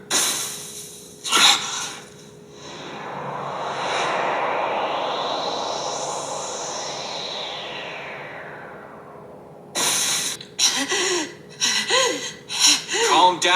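Anime character in a panic attack, heaving with rapid, panicked gasps and harsh breathing, loud and close, with a long rushing swell in the middle before sharp repeated gasps return near the end.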